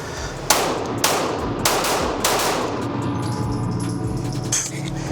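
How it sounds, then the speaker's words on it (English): Several sharp gunshots from a stock Glock 47 pistol fired on a range, four loud reports spaced roughly half a second apart, each followed by a brief echoing decay over a steady background hiss. "My first shots comparing the Floyd's Custom Shop. Here's the stock Glock 47."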